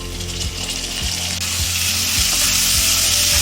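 Tomatoes tipped into hot oil with browned onions for a North Indian pumpkin dal, a loud, dense, steady sizzle with a regular rhythmic scraping or ticking of a stirring utensil running underneath throughout.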